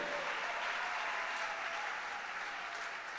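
An audience claps continuously at a church celebration, a steady dense wash of applause that holds at even loudness from start to finish with no talking.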